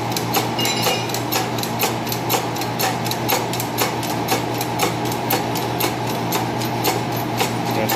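A seal is tapped into a Ford 7000 gasoline water pump during repair. The clip has rapid, even metallic ticks throughout, close and moderately loud over a low background hum.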